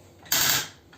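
A joint on a Transformers Haslab Unicron toy figure gives a single quick, close ratcheting click-whir that fades out within a fraction of a second.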